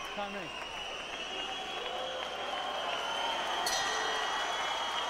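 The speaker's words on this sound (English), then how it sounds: "Bell sounds to end the 10th." A boxing bell rings once to end the 10th round of a heavyweight bout, Wladimir Klitschko against Tony Thompson, its bright metallic tone hanging over steady arena crowd noise.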